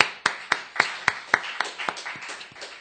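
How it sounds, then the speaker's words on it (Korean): A small group claps during a church Bible lesson: about ten sharp, evenly spaced claps in a steady rhythm that gradually loosen and soften toward the end, moderately close and fairly quiet. "아, 박수!"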